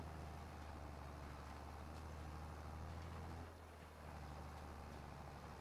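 A tractor engine in the video game Farming Simulator 22, straining to pull a load, gives a steady, heavy low drone with a rough rumbling texture that briefly dips and then resumes, continuous and uninterrupted by speech.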